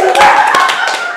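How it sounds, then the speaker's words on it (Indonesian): An audience claps along during a performing-arts show, a short burst of dense hand claps that swells quickly and then tapers, with some voices mixed in. "kita tepuk tangan"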